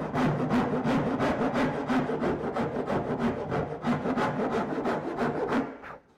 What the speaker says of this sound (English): Smooth it off a little bit with a rasp.